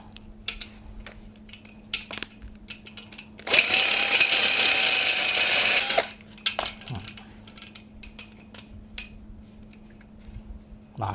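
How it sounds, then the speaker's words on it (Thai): A loud power drill whines steadily for a few seconds, drilling a hole through a folding tent's center pole, bracketed by quiet clicks and handling noises. "เราก็มาเจาะรูตรงกลาง เพื่อสำหรับยึดน็อตตรงกลาง"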